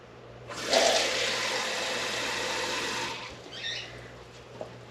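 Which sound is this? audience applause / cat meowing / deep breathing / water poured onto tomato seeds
water poured onto tomato seeds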